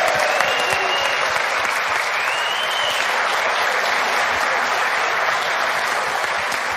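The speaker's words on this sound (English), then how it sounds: "a round of applause for Singapore" Audience at the final of the 2022 World Cup of Pool, Spain against Singapore, applauds in a dense, steady round of clapping that holds loud and even for several seconds.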